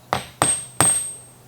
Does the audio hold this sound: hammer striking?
yes